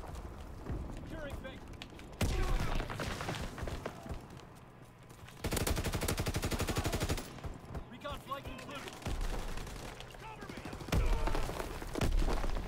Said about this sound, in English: No, give me the MG.